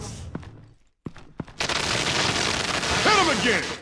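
Gunfire in Batman The Enemy Within, a few sharp isolated shots after a brief silence, then a sustained dense burst of firing with whizzing tones near the end.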